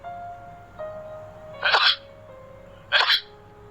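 Two separate sneezes, loud and close, about a second apart, alone over a faint steady background tone.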